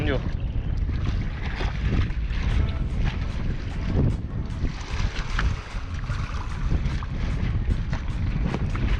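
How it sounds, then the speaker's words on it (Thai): Strong wind blusters by the water beside bridge pilings during a fishing trip, roaring steadily into the microphone with gusts that swell and fall, and a voice briefly audible under the rush. "ลมแรง"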